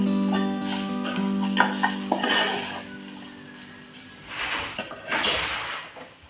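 A spoon stirs coriander powder and salt through a green pea dish in a pan, with a few scraping clinks against the metal and a soft sizzle, close and steady with no talk.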